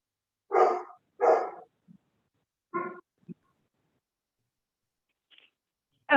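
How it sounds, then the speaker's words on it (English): A dog barks a few times from a distance during a town hall meeting, two strong barks and then fainter, scattered ones, with quiet gaps between. "Somebody has a nice dog that needs to be fed, it sounds like."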